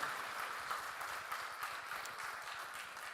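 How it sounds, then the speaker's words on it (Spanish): A congregation in a church claps together in dense, sustained applause. The clapping stays steady and fairly close throughout, with no voices standing out. "Dale el aplauso al Señor, porque Él es bueno y para siempre es su misericordia."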